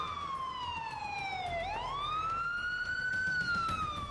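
A wailing ambulance siren sweeps down and then slowly rises again, steady and moderately distant, with no voices.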